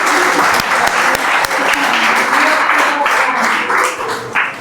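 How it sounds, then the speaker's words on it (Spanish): Audience applause for a woman called up during a church leaders' session, dense steady clapping filling the room for several seconds with a faint voice underneath. "Dale un aplauso."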